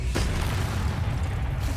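A Confringo spell blast erupts in Hogwarts Legacy, a sudden booming burst followed by a dense, rumbling low roar that lingers loudly for a couple of seconds.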